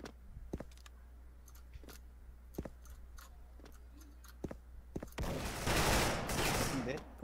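Rapid bursts of gunfire from the online shooter Special Force, likely an MX-4 or G36C rifle, crack out as sharp separate shots before a louder, dense sustained volley near the end, with talk around them.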